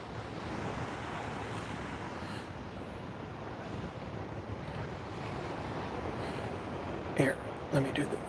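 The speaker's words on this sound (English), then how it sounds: "It's just straight ocean." Ocean surf rolls steadily onto Waikiki beach on Oahu at sunrise, a constant broad wash with some wind rumble. A brief voice is heard near the end.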